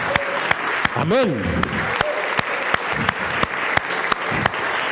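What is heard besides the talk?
applause in a church service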